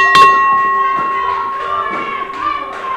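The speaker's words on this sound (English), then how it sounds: "The bell has rung." Ring bell at an XVW independent wrestling show, a bright ding with sustained ringing tones that carries over crowd noise and thuds in the arena, the pitch lingering through the whole moment.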